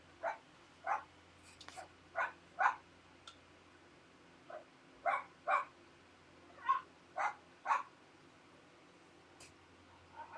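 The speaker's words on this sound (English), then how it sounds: "I don't know if you can hear that dog barking." A dog barks repeatedly somewhere in the background, about a dozen short, separate barks in an uneven rhythm over a low, steady hum, with no talking.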